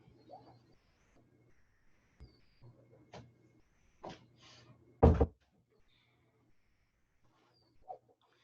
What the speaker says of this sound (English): let me go close my door.